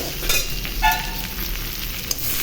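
Vegetables fry in a pan with turmeric and coriander powder, a steady close sizzle with soft stirring scrapes throughout.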